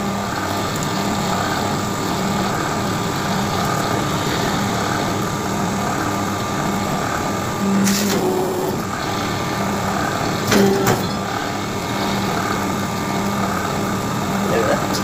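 A hydraulic paper plate making machine runs with a steady, loud mechanical drone throughout, with two brief sharper clanks partway through.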